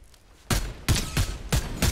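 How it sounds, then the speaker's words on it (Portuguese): Video game gunfire: loud, sharp shots crack in quick succession, about five bursts at roughly quarter-second intervals after a quiet start. "Tá, Sete, tô tomando vários tiros aqui"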